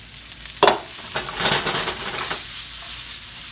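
Green beans hit a pan of crisping bacon with a sharp splash, followed by a loud, steady sizzle and scraping stirring close up, with no voices.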